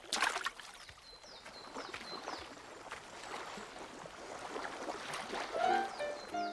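Water of a lake or river splashes and trickles close by, a continuous wet swishing with faint bird-like chirps and a soft gurgle near the end.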